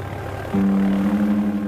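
A Piper Cherokee single-engine propeller airplane starts its takeoff run, its engine suddenly rising to a loud, steady drone after a quieter idle.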